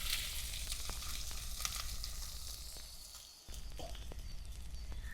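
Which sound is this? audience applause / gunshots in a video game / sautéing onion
sautéing onion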